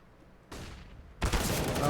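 A flashbang grenade and gunfire in a Counter-Strike match on the Inferno map erupt in two loud, harsh bursts, the second a dense, sustained burst of rapid shots.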